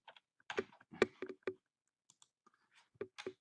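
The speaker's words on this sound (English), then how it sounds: "All I'm doing is typing right now." Typing on a computer keyboard, a quick uneven run of close, crisp key clicks in short bursts with brief pauses between, no talking.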